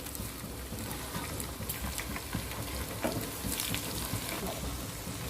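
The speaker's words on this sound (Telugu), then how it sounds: "ఆనియన్స్ కొంచెం ఫ్రై అయిన తర్వాత పచ్చిమిర్చి వేసుకుందామండి." Onions, green chilies and curry leaves fry in a pan for a mango chicken curry, a steady soft sizzle and crackle with occasional pops, fairly quiet and close, without talking.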